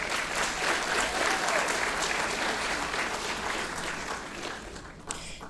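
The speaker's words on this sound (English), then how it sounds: "Let's give him another round of applause." A hall full of people at a graduation ceremony clapping steadily for an award recipient, dense and sustained, tapering slightly toward the end.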